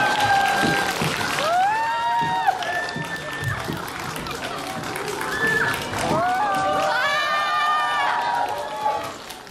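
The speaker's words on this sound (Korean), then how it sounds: "박수 부탁드립니다." Applause and cheering at a Korean film screening as the actors and director are welcomed on stage, a loud crowd of clapping with whoops and shouting voices rising and falling over the roomful of people.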